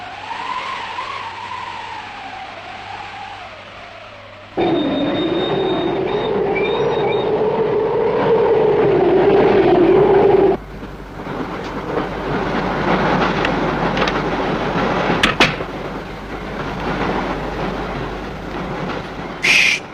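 A train rolling along rails, a loud continuous rumble with a droning tone that shifts partway through, then rougher clattering with a few sharp metallic squeals near the end.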